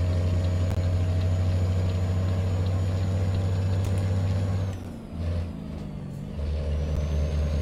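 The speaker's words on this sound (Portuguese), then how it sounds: "É bom demais de cambiar esse caminhão." A BOB 15180 4x2 truck with a straight-pipe exhaust in Euro Truck Simulator 2, its deep engine droning steadily and loudly, then briefly cutting out around a gear shift before the low rumble resumes.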